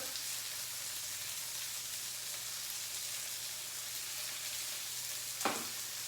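Brussels sprouts and bacon frying in a cast iron skillet, a steady, even sizzle with soft hiss throughout and a single brief clink near the end.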